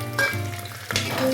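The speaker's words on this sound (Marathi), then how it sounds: "याच्यामध्ये आता आपण कांदा घालून घेणार आहोत" Chopped onion fries in hot oil with peanuts in a pan for spiced masala rice, a close, bright sizzle that flares up twice as the pieces are stirred, without any voices.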